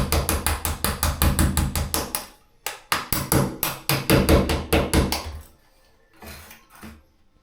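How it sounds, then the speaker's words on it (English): Rapid, sharp metallic taps of a hammer striking a chisel to chip away grout residue on tiles, in quick bursts with brief pauses between, close by. "Cleanup is as easy as taking the hammer and the chisel and cleaning up the residue."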